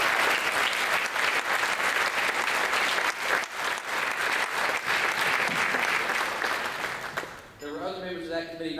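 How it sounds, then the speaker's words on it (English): Banquet audience applauds the agricultural education planning committee, loud sustained clapping filling a large room for about seven seconds before fading as a voice and tones come in. "Let's give them a round of applause."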